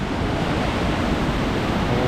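Busy river water rushing over the horseshoe weir at Belper River Gardens on an autumn day, a steady, dense broadband roar with no break, close and fairly loud, no voices.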